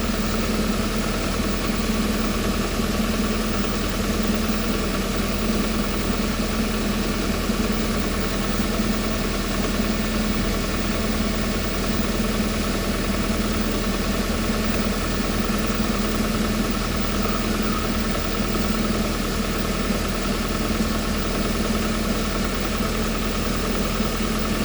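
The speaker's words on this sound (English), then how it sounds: "I had to set the air conditioner down to really cold to get the engine to kick on." A 2023 Hyundai Sonata Hybrid engine idles in a steady, even hum with a low drone and faint mechanical ticking, unchanging and moderately loud throughout with no other sounds.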